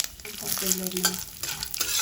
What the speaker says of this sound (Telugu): వేరుశనగ పప్పు వేసుకోవాలి